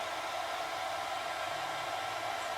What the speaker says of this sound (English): you could run your hairdryer for an hour